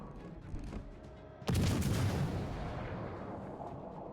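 Naval artillery from the Pozharsky in World of Warships Legends fires one heavy, close boom that rolls away in a long fading rumble. A softer thump comes just before it.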